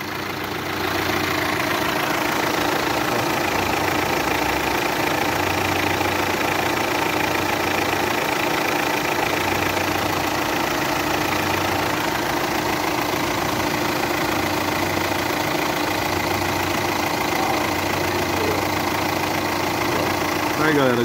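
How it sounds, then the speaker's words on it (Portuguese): A VW Amarok turbo diesel engine idles close by, a steady, loud diesel clatter with even low throb that runs unchanged throughout, heard alone without talk. "Amarok é o barulho perfeito."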